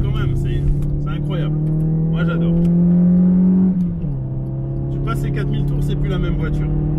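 A Peugeot 406 16-valve engine revving past 4000 rpm, a steady droning engine tone that climbs and holds high before dropping back, with someone talking over it in bursts.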